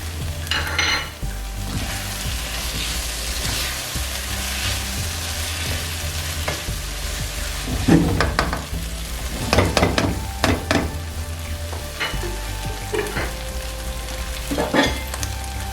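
Two tablespoons of carom seeds (ajwain) crackle in hot oil for arvi masala, a continuous close sizzle punctuated by several clinks of a utensil against the pan.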